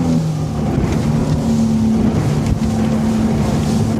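A Suzuki DF 300 outboard engine on a ZAR 79 SL inflatable boat at 34 knots drones loudly and steadily throughout, with low harmonic hum and rushing water noise, no voices.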